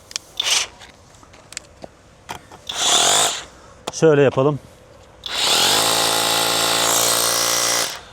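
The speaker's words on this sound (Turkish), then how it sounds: "İlk yapacağımız test kırıcı delici matkabımızla buradaki beton bloğu delmek." A brief spoken phrase, then a long, loud, steady Retools hammer drill boring into a concrete block for about three seconds, preceded by short bursts of tool noise.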